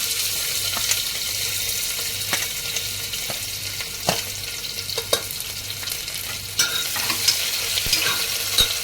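Finely chopped onion frying in hot oil for a tempering, the base for a spicy black-masala mutton curry, giving a steady close sizzle with occasional stirring scrapes and pops throughout.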